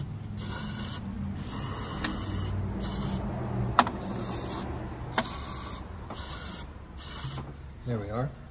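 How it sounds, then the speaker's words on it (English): Carb cleaner sprayed in repeated bursts of hissing onto the spark plugs of a 2007 Ford Focus engine during valve cover work, several short sprays with pauses between them and a couple of sharp clicks. "let's clean that up with some carb cleaner."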